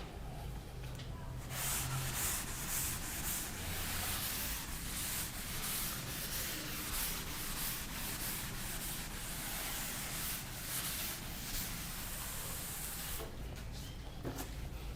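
Chalk is wiped off a classroom blackboard in a steady, continuous scrubbing rub. The close, hissing sound lasts for most of the span and fades out briefly near the end.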